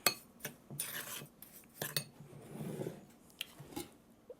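A spoon or whisk clinks and scrapes around a bowl, stirring sugar, cornstarch and salt together as dry filling for a green tomato pie, with several sharp taps against the rim and stretches of gritty rubbing, close and fairly quiet.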